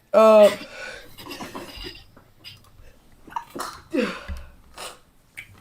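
A single loud, close sneeze bursts out at the start, followed by people talking quietly.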